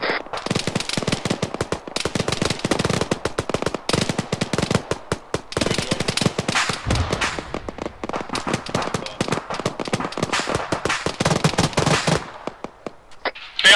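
Sustained automatic gunfire in the military video game Arma 3, loud and dense bursts of rapid shots rattling almost continuously for many seconds before a brief quieter tail.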